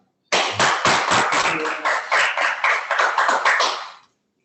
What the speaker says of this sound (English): So I guess we can clap.